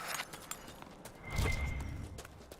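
Faint hoofbeats of a horse in Dragon Age: Inquisition, a scattered series of soft clip-clop steps with a brief low rumble of movement in the middle, quiet and set back in the mix.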